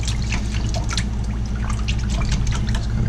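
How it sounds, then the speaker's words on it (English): A trumpet slide being dipped and swished through water for cleaning, giving continuous close sloshing, trickling and dripping with a steady low hum underneath and no talk. "I like to just dip it in the water"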